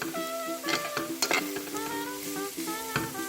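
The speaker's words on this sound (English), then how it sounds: "I have added the chopped carrot, and we will mix it, the carrot." Chopped carrot stirred and fried in a pan for vegan momo filling, with a steady sizzle and repeated scraping strokes and clinks of the spoon against the pan, close and alone.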